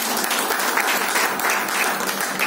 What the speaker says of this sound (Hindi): तालियां होनी चाहिए आपके